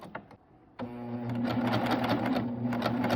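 A sewing machine hemming knit fabric starts abruptly after a few soft handling clicks and then runs as a steady, close, rapid mechanical stitching whir with no talking.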